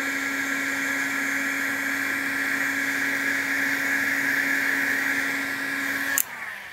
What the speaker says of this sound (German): Trocken föhnen